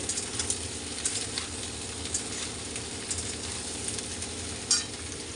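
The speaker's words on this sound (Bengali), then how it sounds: "আজকে পেঁয়াজ কলি আলু আর এই যে বেগুন দিয়ে একটা তরকারি হবে এই যে সব একসাথে ভেজে নেব" Onion stalks, potato and eggplant fry together in a pan, giving a steady close sizzle with light stirring scrapes and a brief louder clatter near the end, no talking.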